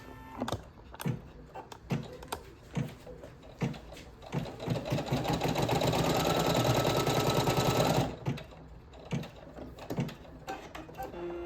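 An embroidery machine works through its opening stitches with a close, rapid mechanical chatter, starting as short separate bursts and running into a sustained whirring stretch before breaking back into intermittent clicks.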